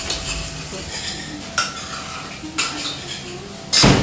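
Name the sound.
onion and garlic frying and stirred in a pan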